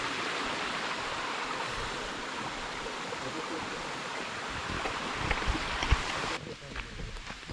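Waterfall and stream in the hills near Yelagiri, a steady broad rush of flowing water heard from a distance, continuous and fairly soft.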